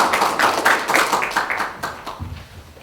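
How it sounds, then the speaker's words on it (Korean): Scattered audience clapping at a municipal briefing on a city's COVID-19 response, a burst of several hands close and loud at first, thinning and fading out over a few seconds. "박수 안 쳐주시나요?"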